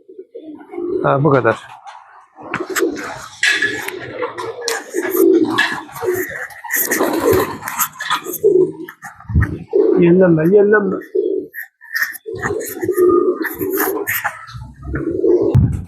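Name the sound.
pigeons cooing at a pigeon club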